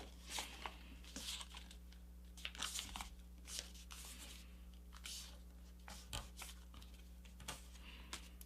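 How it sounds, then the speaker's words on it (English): Paper crinkles and rustles up close as the wings of a paper airplane are folded, giving soft, irregular creases and scrapes under a low steady hum. "now we'll fold it in half and fold our wings right along this edge here"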